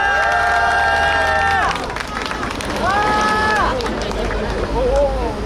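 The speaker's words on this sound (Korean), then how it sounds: "박수 부탁드리겠습니다." A crowd of citizens at an outdoor political campaign event in Suncheon applauds and cheers for a market traders' representative, steady clapping mixed with shouts and whoops, while a presenter's voice speaks over the noise through a loudspeaker.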